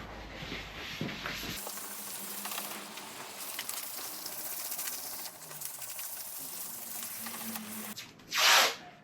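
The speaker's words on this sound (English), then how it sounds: "all my edges will be sanded with a grey Scotch-Brite" Edges of a car's front wing panel being rubbed down with a grey Scotch-Brite pad: a continuous close, hissy scrubbing that runs steadily for several seconds before stopping, no talking.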